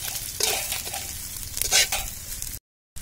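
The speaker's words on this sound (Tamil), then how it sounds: "அதுக்குள்ள மசாலா போட்டு வணக்கிக்கலாம்." Masala frying in oil in a pan for a Tamil-style egg fry, a close, steady sizzle with bursts of stirring scrapes, then a brief cut to silence near the end.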